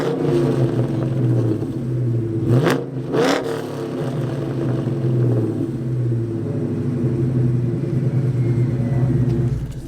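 A Ford Mustang with a 2V V8 engine and an aftermarket exhaust idles with a deep, loping burble, broken by two quick sharp blips of the throttle, then it settles back into a steady, loud, close rumble.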